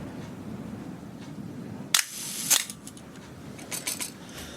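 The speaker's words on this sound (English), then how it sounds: "the shutter and the film have to be wound on each time a photograph is taken" An SLR film camera fires its shutter with a sharp click, followed moments later by a second mechanical click and a faint rasp of the film being wound on, close up against a quiet room hiss.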